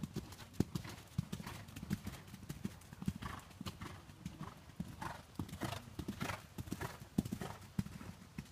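Horse hooves clip-clop in a steady, even rhythm during a riding clinic, close and fairly clear, with occasional snorts or whinny-like sounds mixed in.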